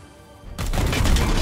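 Gunfire in Warhammer 40k: Chaos Gate Daemonhunters erupts after a quiet moment, a loud, close burst of rapid shots and crackling impacts that fills the last second.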